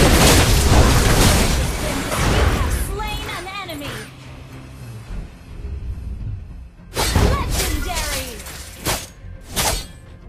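A turret is destroyed in a mobile battle game, loud crashing booms and shattering bursts at the start, then quieter effects with a few sharp pops returning near the end, while an announcer voice speaks.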